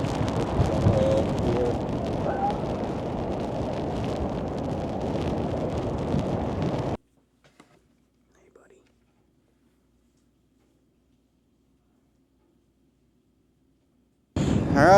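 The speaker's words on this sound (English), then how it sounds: "The rain's brutal." Heavy rain pounding during a coastal storm on a beach outing for crab fishing and razor clamming, a loud dense roar with wind buffeting the microphone for about seven seconds, then near silence, then the downpour bursting back in at the end.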